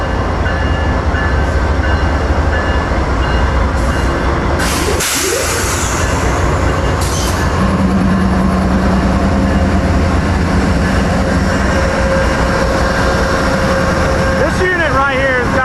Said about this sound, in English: Southbound crescent leaving Lynchburg, Virginia.